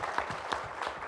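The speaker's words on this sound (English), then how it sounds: "So we should give her a round of applause." A small audience at a G4G Celebration of Mind gathering gives a brief, faint patter of applause, a thin spread of hand claps heard from a distance for about a second.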